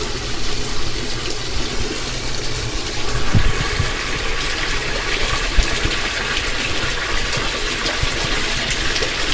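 Cool mountain water gushes steadily from a spring spout at a roadside fountain near a village, a constant broadband rushing and splashing close by with no talk.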